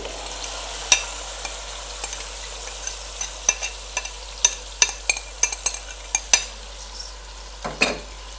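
Marinated chicken and onions being stirred in a frying pan, with a faint steady sizzle under a run of sharp, irregular spoon scrapes and clinks against the pan, growing busier and louder toward the end.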